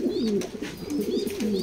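Close, loud low cooing from a large, spirited male Mili pigeon, several rolling coo phrases in quick succession with faint chirping behind.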